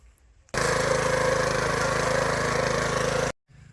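A mini power tiller engine starts abruptly and runs with a loud, rough, rapid chugging for about three seconds, then cuts off sharply, leaving faint background noise on either side.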